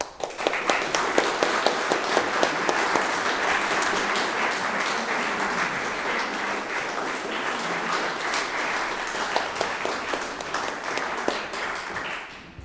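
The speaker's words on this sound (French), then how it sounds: "nous lui adressons tous nos applaudissements" An audience at a book-art exhibition closing at the Wittockiana claps for a first-prize winner in graphic narrative: a long, full round of many hands with distinct individual claps audible, steady for over ten seconds before tapering off.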